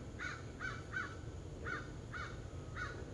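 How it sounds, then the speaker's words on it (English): Crows caw outdoors, six harsh calls in loose pairs and singles, moderately distant and faint over a low background hum. "I'm sorry if you hear the birds"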